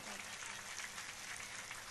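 Faint, distant crowd clapping at a religious discourse, a continuous hissy patter of many hands heard in a short burst.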